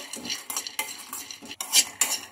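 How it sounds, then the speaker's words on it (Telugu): Peanuts being fried and stirred in a kadai, with a spoon scraping and clattering against the metal pan in quick repeated strokes over a faint sizzle, close and fairly loud. "ఇదే కడాయిలో ఇప్పుడు పల్లీలు కూడా వేయించుకోవాలి"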